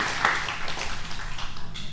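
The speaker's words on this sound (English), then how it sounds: "give her a round of applause in case she's watching online" Brief applause from an audience at a community gathering honoring a doctoral graduate, a dense patter of clapping that starts with a brighter burst and continues steadily with some faint voices underneath.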